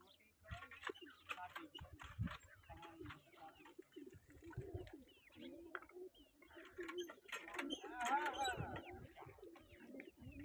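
Pigeons coo softly in a loft, low throaty calls repeating through the scene, faint and close, mixed with rustling and someone talking at times.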